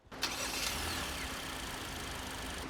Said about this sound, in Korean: 자, 얘 시동 한번 걸어볼게요.